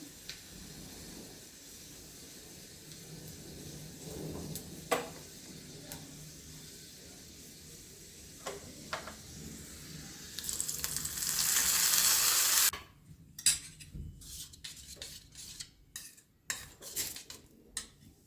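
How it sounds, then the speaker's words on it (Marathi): Garlic frying in a pan until golden pink for a dahi chutney: sparse utensil clinks over quiet crackle, then a loud sizzling hiss that swells for about two seconds and gives way to scattered taps and clatter. "छान गुलाबी सरस होईपर्यंत तळून घेऊयात थोडंसं।"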